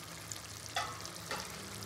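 Chicken sizzles and fries steadily in oil in a pan, a constant crackling hiss with a couple of brief louder stirring or spatter bursts, close up and with no talking.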